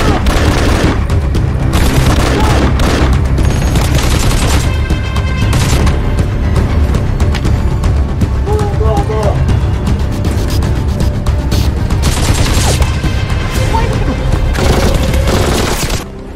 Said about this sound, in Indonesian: sehingga aksi tembak-tembakan pun terjadi kembali